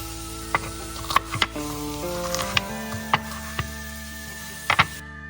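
Wild boar meat browns in a pan for a breakfast burrito, with a soft steady sizzle under scattered clinks and scrapes of a utensil against the cookware, fairly quiet and close.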